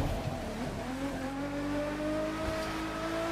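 Lotus Evora GTE engine in The Crew 2 racing game, a steady drone with rising harmonics as the revs climb through the gears, with a brief dip near the end, loud and continuous with no talk.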